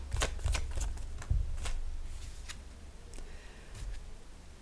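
Tarot cards are shuffled and drawn in a series of quick, close riffling flicks and soft slaps, moderately quiet, with no voice heard.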